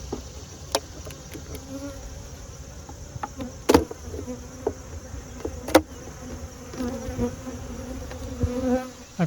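A dense swarm of honey bees buzzing steadily nearby at an opened hive, with occasional louder passes and faint clicks and taps underneath.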